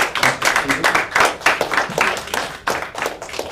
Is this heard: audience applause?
yes